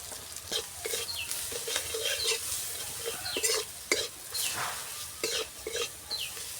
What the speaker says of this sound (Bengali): মশলাগুলোকে ভালো করে কষানো হয়ে গেছে